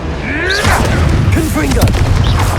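Fiery Confringo and Incendio spell blasts in Hogwarts Legacy combat, a dense run of booming explosive hits and crackling bursts layered over continuous battle noise.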